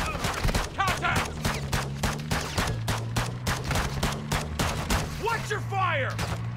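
Gunfire in the video game Modern Warfare 2, a steady string of sharp, evenly spaced shots over a droning background hum, with voices calling out between bursts.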